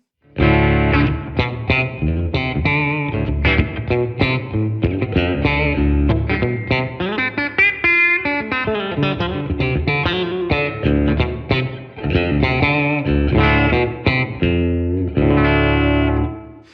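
Fender Acoustasonic Stratocaster electric guitar with a slightly gritty, semi-clean amp tone strums chords and picks notes steadily, full and warm, with light breakup on harder hits.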